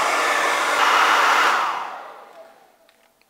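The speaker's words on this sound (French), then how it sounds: "Donc le sèche-cheveux à plus de 1850 watts, ça passe." A hair dryer drawing over 1850 watts blows with a loud, steady whooshing roar for about a second and a half, then winds down and fades to near silence.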